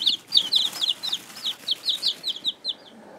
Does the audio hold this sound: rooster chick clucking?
yes